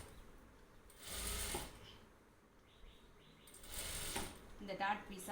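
A sewing machine runs in two short bursts while stitching a seam on an embroidered blouse, its fast mechanical whirring rising and falling, with quiet pauses between runs.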